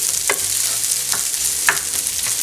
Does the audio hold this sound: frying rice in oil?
yes